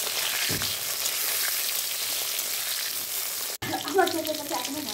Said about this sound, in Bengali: বেশি সময় লাগবে না বেগুনগুলো ভাজতে, বেশ কড়া কড়া করে ভাজলে ভালো লাগবে।